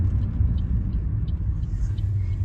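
A car drives along Center Street, a city road in Canada, with a steady low engine and tyre rumble throughout, close and continuous, with no talk.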